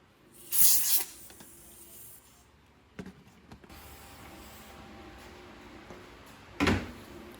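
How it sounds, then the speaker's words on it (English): Compressed air sprayed onto the front grill and dust filter of a PC case in short hissing bursts, two strong blasts near the start and end with softer puffs and handling noises between them. "I'm hitting the front grill of the case with air"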